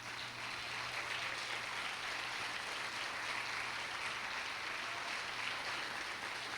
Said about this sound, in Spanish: recibiéramos con un gran aplauso a nuestras visitas